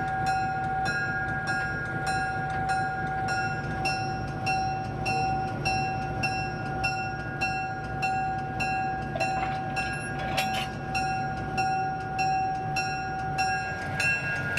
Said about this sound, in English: in time to watch the switch crews put the day's train together